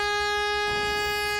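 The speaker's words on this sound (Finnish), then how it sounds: "Torvi törähti ja kanootti tärähti liikkeelle." Loud, sustained air horn blast signals the start of a run on the Wipeout Zone obstacle course at the Finnish Wipeout show, a steady harmonic tone held for over a second before it cuts off abruptly.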